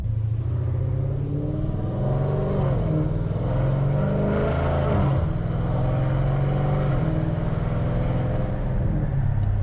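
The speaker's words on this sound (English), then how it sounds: "And that sound and acceleration also never gets old with this car." A cammed Dodge Challenger Scat Pack engine roars and accelerates, a deep, loud rumble that rises in pitch steadily throughout, with no talking.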